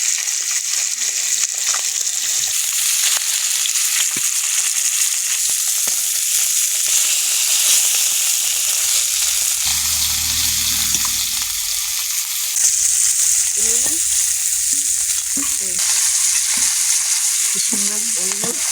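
Fish frying in a pan makes a loud, continuous bright sizzle that runs throughout, with faint clatter and occasional voice-like sounds in the background.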